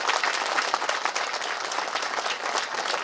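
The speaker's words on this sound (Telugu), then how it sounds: "గట్టిగా చప్పట్లు కొట్టారు." A church congregation at a Christmas service claps loudly and continuously, a dense, even burst of applause filling the whole stretch with no talking over it.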